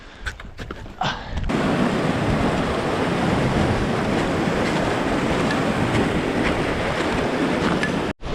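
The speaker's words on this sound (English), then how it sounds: "We're just in this area with all these superglacial streams." Rushing superglacial meltwater stream on the Saskatchewan Glacier, a steady loud broadband roar of flowing water close by, with some wind buffeting on the microphone at the start.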